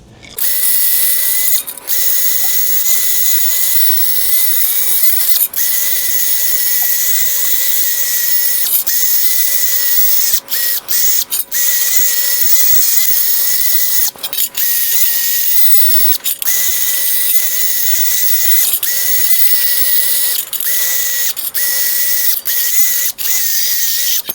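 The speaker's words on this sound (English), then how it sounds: "I'm also going to just run the wire wheel across this real quick" A wire wheel on a power tool brushes a wheel bearing part from a Trailblazer, a loud continuous high-pitched whir with a steady tone broken by brief scraping bursts and short dips, running for over twenty seconds without talk.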